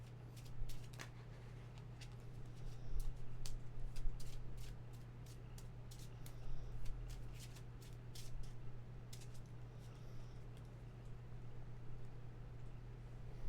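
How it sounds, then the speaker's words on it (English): Trading cards are shuffled and handled at a quiet table, soft irregular riffling flicks spread over several seconds above a steady low electrical hum, faint and close. "And then shuffle this in."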